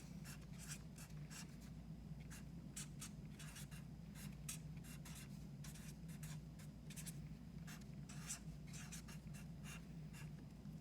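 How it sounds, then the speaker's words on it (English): Pen strokes scratch across a Father's Day card in short, quick bursts with brief pauses between them, close and quiet, and no one talks. "And we're gonna write Happy Father's Day."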